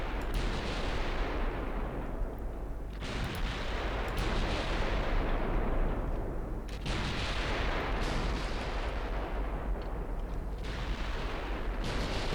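Warship guns fire in the naval game Ultimate Admiral Dreadnoughts. Deep booming salvos strike about every two to three seconds, each one decaying into a long rumble, with a constant low drone underneath.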